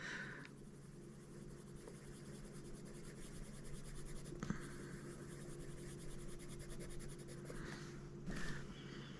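Faber-Castell Albrecht Dürer watercolour pencil colouring on textured, toothy paper: a soft, steady scratching of pigment across the surface, close and quiet, with a couple of brief taps or lifts of the pencil.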